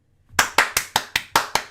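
Hand clapping: seven sharp, evenly spaced claps in a steady rhythm, close and crisp, each with a short decay and silence before the first.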